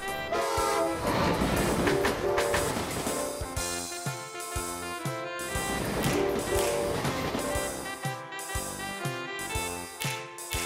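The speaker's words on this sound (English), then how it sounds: "Small Tram." Rail vehicle rumbling and clattering past with horn tones over a musical background, fairly loud and continuous.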